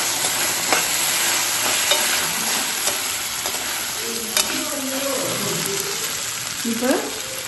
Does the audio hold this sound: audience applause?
no